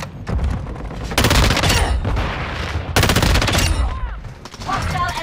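Rapid automatic gunfire in a shooter video game, loud dense bursts of rattling shots in two long volleys with brief gaps, game voices speaking between them.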